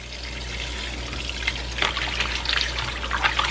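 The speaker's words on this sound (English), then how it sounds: "We're gonna clean them with this lemon and cold water." Cold tap water runs steadily while food is cleaned with a cut lemon, a continuous trickling and splashing that grows a little busier in the second half, close and without talk.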